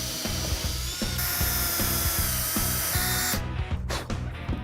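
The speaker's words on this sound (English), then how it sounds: "We're going to pre-drill a bunch of holes that we're going to put our screws in" A power drill pre-drilling countersink holes for screws whirs steadily with a rapid rhythmic pulsing, loud and close, the pitch dipping briefly near the end as it bites into wood.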